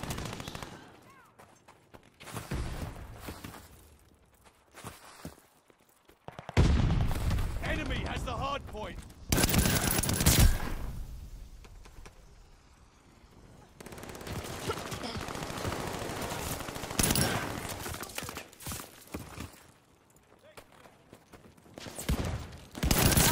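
Rapid automatic gunfire from a Call of Duty Vanguard multiplayer match on a hardpoint mode, with a two-shot Vargo-S rifle setup, comes in loud bursts separated by quieter gaps, with a player talking over parts of it.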